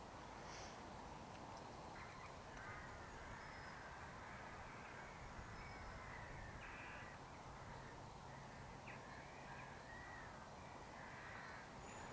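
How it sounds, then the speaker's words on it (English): Rooks, crows and jackdaws caw from a distance in woodland, faint repeated harsh calls scattered over a steady wash of wind and background noise. "We can hear rooks, crows and jackdaws about."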